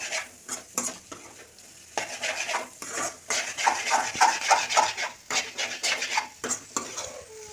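Egg podimas being stirred in a frying pan, with a spatula scraping and clinking against the metal in close, irregular strokes over a soft sizzle, and no talking.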